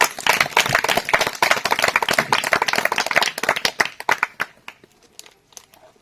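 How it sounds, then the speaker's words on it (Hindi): An audience claps for the event organiser, a dense burst of many hands that thins into scattered individual claps and fades out near the end, with no talking over it. "एक बार उनके जोरदार ताली बजा दीजिए।"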